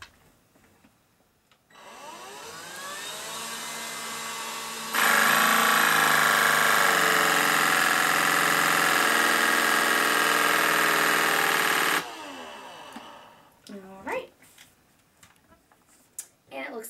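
An Electrolux Ergorapido stick vacuum switches on at full power with a steady, loud whine for several seconds, then cuts off, leaving clicks and handling noises; quieter motor hum and voices surround it.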